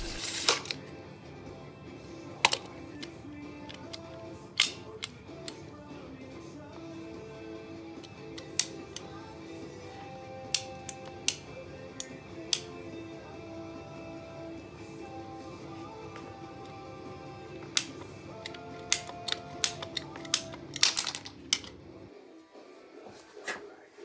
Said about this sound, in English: I use a PVC pipe cutter to cut the pipe in half